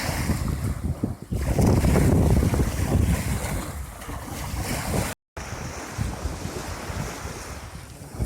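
Wind-driven waves churn on a lake, a loud continuous wash of surf with heavy wind buffeting the microphone and a brief dropout midway.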